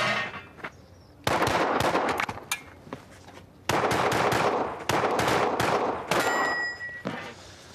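Bursts of rapid 9 mm gunfire crackle in loud, sharp volleys separated by brief pauses at a shooting range, some reverberant echoes trailing off, with no talk over them.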